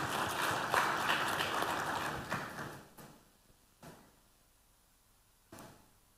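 Applause from an indoor audience at a police commemoration gathering, a dense clatter of clapping for about three seconds that thins into a few scattered claps and faint knocks in a quiet room.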